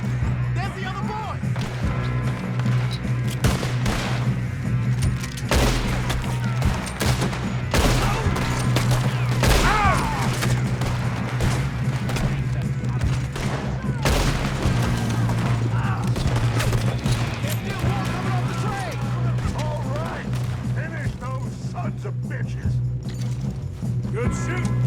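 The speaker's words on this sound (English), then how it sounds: "Good shooting, kid." Gunfire fills a shootout in the video game Red Dead Redemption 2, with dense, loud volleys of shots and mechanical clicks layered over constant music and ambience, with voices talking over them throughout.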